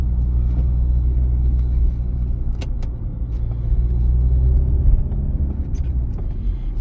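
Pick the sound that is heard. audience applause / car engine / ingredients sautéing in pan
car engine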